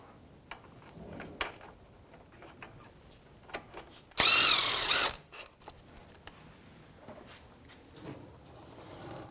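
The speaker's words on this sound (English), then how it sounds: "Now I'm going to take the bottom bolt all the way out" A power tool whirs in one loud, close burst of about a second while a brake caliper's bottom bolt comes out on a 2011-2017 Honda Odyssey, with softer clicks and tool handling before and after.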